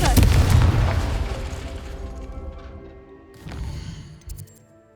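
A Confringo spell bursting in Hogwarts Legacy gives a loud booming blast up front that decays into a rumbling tail, followed by a second smaller burst near the end.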